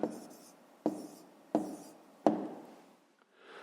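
Pen or chalk writing down the answer to a fifth-grade decimal division exercise: four distinct scratchy strokes at a steady rhythm, close and clear, then a faint trailing scrape.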